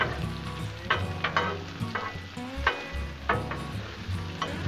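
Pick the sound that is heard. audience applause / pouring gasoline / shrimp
shrimp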